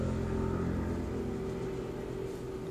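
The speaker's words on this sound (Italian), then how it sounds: "Questo è il rumore della mia strada, che adesso fa un po' l'ora di punta" Continuous rumble of rush-hour street traffic, with engines droning and passing vehicles blending into a dense, moderately distant wash of noise and no talking.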